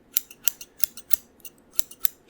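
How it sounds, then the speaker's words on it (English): Barber scissors snip in an irregular series of about eight crisp, close metallic cuts, quiet and alone with no talking. "These scissors seem to be working quite fine."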